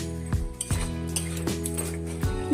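Metal spoon clinks and scrapes against a pan while stirring chilli chicken sauce with Kashmiri chilli powder, turmeric and a little sugar: four or five distinct, fairly close knocks in a loose rhythm over a steady low hum.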